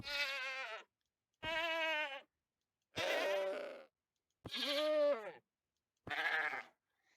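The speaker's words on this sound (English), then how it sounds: "for a screaming goat dying." Minecraft screaming goat death sound from the video game: five harsh, strained bleating cries, each about a second long and separated by short silences, loud and alone with no talk.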